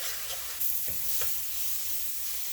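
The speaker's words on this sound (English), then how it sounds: "you allow this to fry up and cook nicely until it is green" Karhee ingredients frying in a pan, a steady close hiss of sizzling with a couple of brief stirring scrapes.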